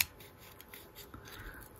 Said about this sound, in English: We still have something called scissors.